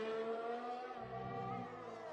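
F1 car engine screaming through a flying lap in the F1 video game at Bahrain, a steady high-pitched whine that shifts pitch around the one-second mark as the car changes gear, heard without talk.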